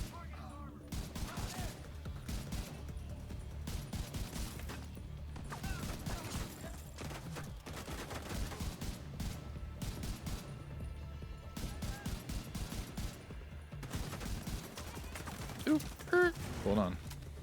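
Rapid gunfire from enemies in The Division 2, a near-constant barrage of overlapping shots with bursts and crashes across the whole stretch, loud and dense, with a couple of sharper impacts near the end.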